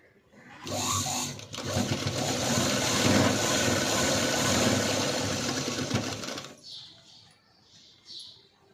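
Sewing machine stitching a padded blouse at the armpit darts, running in one loud, continuous whir for about six seconds before stopping, followed by a few faint light clicks.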